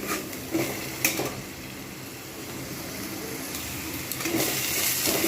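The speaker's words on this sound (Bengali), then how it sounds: "তেল গরম হয়ে গেছে এবার আমি এর মধ্যে দিয়ে দেবো গ্রেট করে রাখা পেঁয়াজটা" Grated onion dropped into hot oil for a prawn curry, giving a faint, steady sizzle with a few clinks of a spoon against the pan near the start and again near the end.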